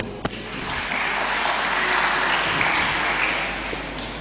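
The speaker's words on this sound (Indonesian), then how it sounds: "Kita beri tepuk tangan yang meriah untuk beliau." Audience applause follows the close of a speech at an Indonesian Islamic gathering, a steady, dense wash of many hands clapping that holds evenly for several seconds, with one sharp knock near the start.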